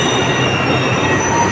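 Metro train on the Delhi Red Line rumbling loudly along the track with steady wheel noise and a faint high squeal, close and continuous, no voices.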